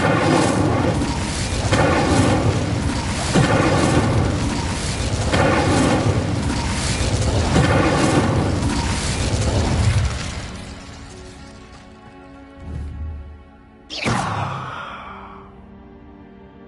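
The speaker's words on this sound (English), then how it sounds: "Incendio." Incendio fire spells in Hogwarts Legacy on PS5 roar in a steady run of loud, rhythmic fiery bursts and booms for about ten seconds, then quieter rumbles and one sharp final whoosh.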